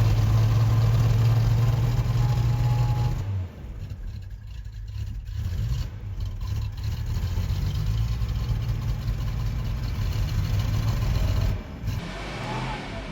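A Jaguar XJS V12 idles at a steady rumble with a slight uneven lift in pitch midway, close and fairly loud, with no voices over it.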